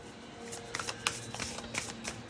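A deck of tarot cards being shuffled close up, a quick flurry of soft riffling slaps and flicks over a couple of seconds, quiet and alone.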